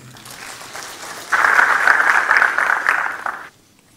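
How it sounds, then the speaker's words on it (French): Conference audience at a medical meeting breaking into applause, light clapping at first that swells into a full, even round of many hands for about two seconds, then stops abruptly. "je vous demande de les applaudir pour leur continuité et leurs efforts"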